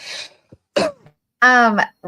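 Close-up coughing and throat clearing in a few short, rough bursts, ending with a strained, voiced hack.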